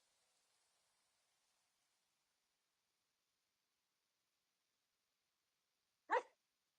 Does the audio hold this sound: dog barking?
yes